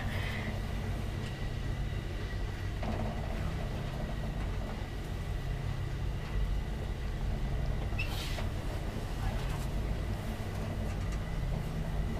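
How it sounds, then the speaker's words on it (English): An old Kone traction elevator in a building at Mannerheimintie 20A, Mikkeli, running with a steady, loud, train-like low rumble that holds throughout, with a faint squeak partway through. "Still got that train sound."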